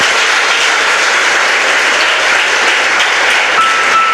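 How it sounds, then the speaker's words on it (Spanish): A church congregation at an evening service breaks into loud, sustained applause that holds at a steady, even level throughout. "¿Cuántos pueden dar un fuerte aplauso esta noche?"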